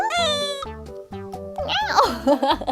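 A pet cat meows close up, several drawn-out, tonal calls in quick succession, loud and clear with no talking.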